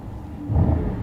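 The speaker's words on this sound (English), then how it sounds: "if I hit the gas pedal, you can actually see the power, it goes up, and if I hit it too much, the engine activates" A 2025 Mercedes-AMG GT 63 S sits in park as the gas pedal is pressed, its engine cutting in with a brief, deep rumble that swells midway and then holds steady.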